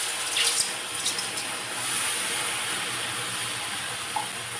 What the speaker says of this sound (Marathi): तर आता काय करायचं, यामध्ये पाणी घालायचं आहे